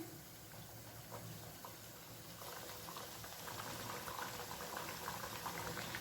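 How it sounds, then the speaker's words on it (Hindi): Semolina snacks frying in hot oil in a wok, a steady, even bubbling and crackle that swells slightly louder as it goes on, close and continuous with no talking. "तो अब हम एक एक करके नाश्ता इसमें डाल देंगे और इन्हें फ्राई कर लेंगे।"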